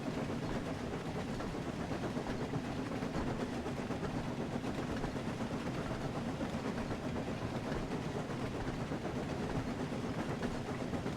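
A toy train from Thomas & Friends: Wonders of Sodor runs steadily along a small track, its continuous rolling rumble and faint clickety-clack holding an even level throughout.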